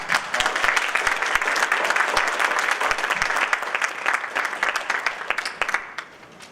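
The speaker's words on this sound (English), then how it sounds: "Let's give him a hand" Audience applause after a grant lecture on overcoming the fear of Ebola, with many individual claps sounding crisp and close within a sustained wash, fairly loud, thinning out in the final second.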